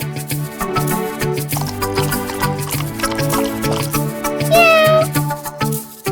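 A hungry cartoon kitten gives a single clear meow near the end, heard over a bright musical backing.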